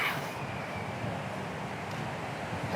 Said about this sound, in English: Lots of wind going this way